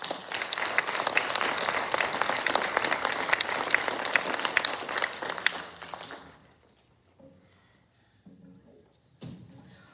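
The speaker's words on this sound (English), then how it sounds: "A round of applause for these students." An audience at a middle school band concert claps loudly for the student musicians, the applause holding steady and then dying away after about six seconds, leaving a quiet room with a few soft thumps.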